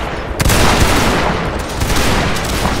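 A musket volley from Napoleonic line infantry in a war video game, Prussia versus Austria, a dense, loud ragged crackle of many shots layered over each other for nearly three seconds.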